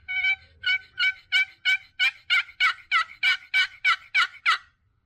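A rhythmic string of roughly thirteen scratchy hen-turkey yelps from a new custom chalked box call, high-pitched, crisp and near, with no other sounds.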